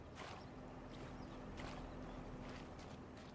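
Water sound effects in Farming Simulator 25 around a small boat on a river, a steady low splashing and lapping wash with faint repeated knocks, moderately quiet and continuous throughout.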